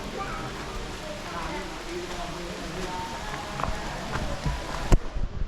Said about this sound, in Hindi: बारिश शुरू हो गई, अब क्या करें?